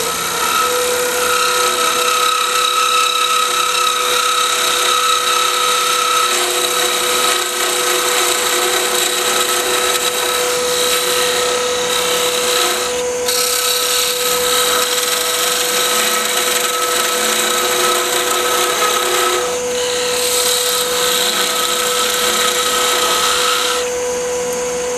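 A wood lathe spinning a wine goblet blank runs up to speed with a steady high whine and hum, continuous and close, with brief dips in tone near the middle and end.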